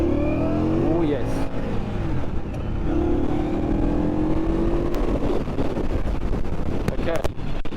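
A 2021 Indian Scout motorcycle engine revs up and accelerates hard on a test ride, its rising drone steady and close against wind rush, with a brief voice heard over it.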